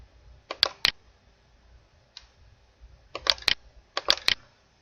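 Keys tapped on a computer keyboard, a few short clusters of crisp clicks separated by quiet pauses, close and fairly soft.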